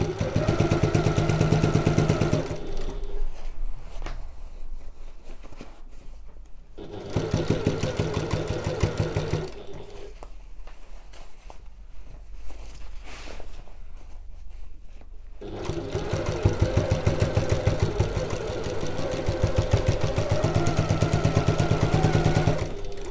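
Sewing machine running steadily as fabric passes under the presser foot, a close continuous motorized whir with fast stitching rhythm in three long runs broken by quieter pauses, no speech.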